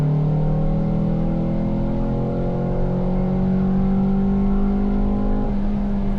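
Ford Fiesta ST with a Mountune exhaust, inlet cams and wet tyres pulls onto a rain-soaked circuit, its engine droning loud and close as the revs climb steadily, with a brief drop near the end.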